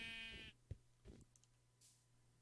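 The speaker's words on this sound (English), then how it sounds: "Sheep, shut up!" A sheep bleating in the Minecraft video game, one loud wavering bleat at the start followed by a few soft clicks and faint noises, no talk.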